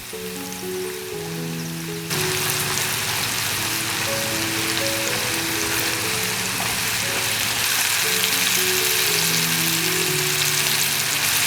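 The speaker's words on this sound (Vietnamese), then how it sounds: "Mình chiên trên lửa vừa cho tới khi gà bắt đầu giòn và ngả một màu vàng nhẹ là được nhá" Batter-coated chicken frying in oil over medium heat, a steady dense sizzle and crackle that holds throughout, with soft background music underneath and no talking.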